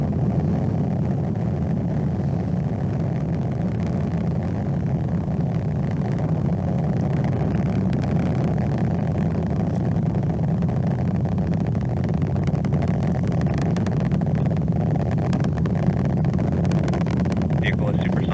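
A SpaceX rocket launching the Sentinel-6 Michael Freilich mission gives off a loud, continuous low rumble that holds steady throughout, with a voice talking over it.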